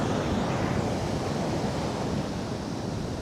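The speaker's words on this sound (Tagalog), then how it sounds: "Ito ang dagat ng Dingalan." Sea surf rolls onto the beach at Dingalan, Aurora, a steady broadband wash of breaking waves with wind noise buffeting the microphone, loud and continuous with no voices.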